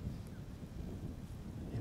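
Wind buffets the microphone in the woods during an Arkansas rifle-season deer hunt, a steady low rumble that continues unbroken and fairly close, with no voices.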